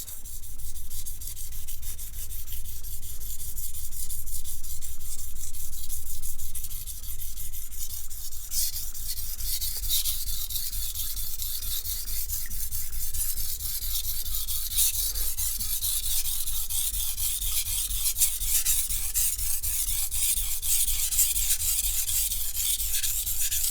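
Asymmetrical bevel knife drawn along a sharpening stone in steady, continuous abrasive strokes, a close, even rasping scrape that holds at one level throughout with no talking.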